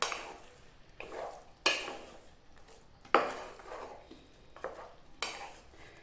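Chicken coated in green masala is stirred in a hot pan, with repeated scraping and clattering strokes of a spoon against the metal over a soft sizzle, each stroke close and distinct in an irregular rhythm.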